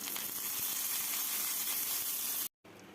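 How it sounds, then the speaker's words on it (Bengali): Raw jackfruit paturi parcels fry in a pan, giving a loud, steady, close hiss of sizzling oil that runs unbroken before cutting out abruptly near the end. "প্যানের মধ্যে আমি পাতুরিগুলো এইভাবে সাজিয়ে একটু ভেজে নেব"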